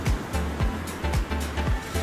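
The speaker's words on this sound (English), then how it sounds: "stretching endlessly, and the sound of waves all around." Ocean waves at Lands End crash and wash against the shore in loud, rolling surges that come one after another in an uneven rhythm. The sound stays close and fills the whole scene, with no one speaking.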